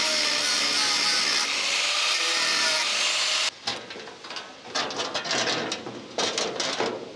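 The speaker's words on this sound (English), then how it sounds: "then I can cut these little tack welds that held it in place" Cutting tack welds on steel mudguards for a SdKfz 221 light armoured car: a loud, continuous power-tool whine up close, breaking off into rougher intermittent grinding bursts.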